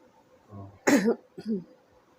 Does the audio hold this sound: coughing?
yes